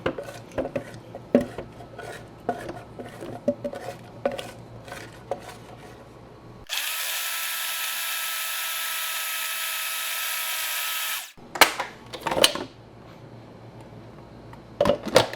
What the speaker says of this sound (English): Blend on high.